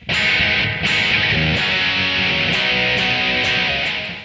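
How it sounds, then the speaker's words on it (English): Heavily distorted electric guitar plays a chorus riff with a delay effect on, loud and continuous, with repeated chord hits blurring into echoing sustain and no voices present. "It's a chorus, so we have a delay on. It sounds like this."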